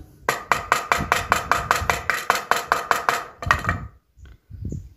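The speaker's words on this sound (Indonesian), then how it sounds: "Ujungnya ini kalian tumpulkan ya Seperti ini caranya memakai palu seperti ini ya Kita tumpulkan" A hammer blunts the tip of a nail before it is driven into bamboo, a fast run of about fifteen crisp, close taps in steady rhythm, followed by a few scattered softer knocks and handling noise.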